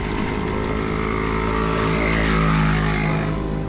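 A motorcycle used to deliver banana chips and fish runs with a steady buzzing engine drone, close and fairly loud, holding an even tone throughout with no voices.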